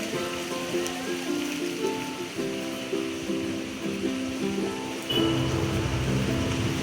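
Steady rain falling in the forest at Amboli amid mist, a dense even hiss with a low hum and tonal drone underneath, continuous and moderately loud.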